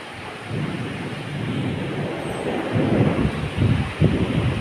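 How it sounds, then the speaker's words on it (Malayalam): Rain falling with low rolling thunder in a home setting, a steady broad wash with deeper rumbles swelling toward the end, no voices. "ഒരിടത്ത് മഴ വരുന്നുണ്ട്"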